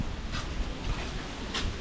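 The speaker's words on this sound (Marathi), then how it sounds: "हवेचा आवाज येत आहे." Wind blowing outdoors through swaying trees, a brief rushing gust with low rumbling buffeting close to the microphone.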